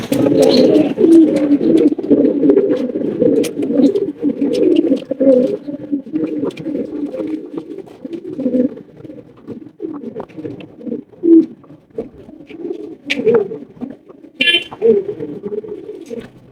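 White Lakka pigeons cooing close up, a dense continuous chorus of low throaty coos with a brief higher call near the end.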